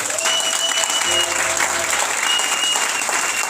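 An audience claps in a steady, dense burst of applause that holds at a constant level, with a few voices mixed into it.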